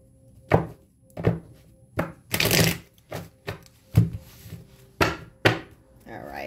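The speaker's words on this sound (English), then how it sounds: "Let me shuffle these up real quick." Tarot cards being shuffled by hand, a series of distinct sharp riffling bursts and soft slaps in an uneven rhythm, close and clear with quiet pauses between.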